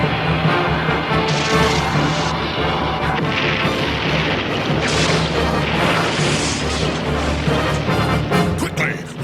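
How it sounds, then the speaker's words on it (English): A cartoon torpedo launch and explosion near an oil tanker, a loud, continuous rumbling blast with crashing and booming bursts filling the whole stretch. "Fire torpedo!"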